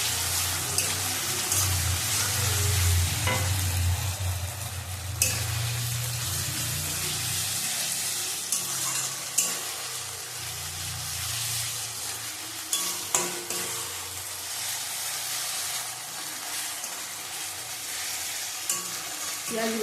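Ginger frying in a pan for a yogurt chicken dish, a dense, loud, continuous sizzle with occasional knocks and scrapes of the stirring utensil, close up and without talking.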